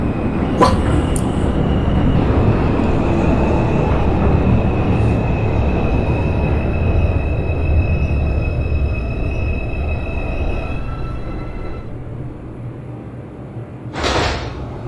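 A simulated NYC Subway R142 2 train in the OpenBVE game runs along the track with a low, rumbling roar and thin whining motor tones. It gradually quiets and thins out, and a sharp clunk sounds near the end.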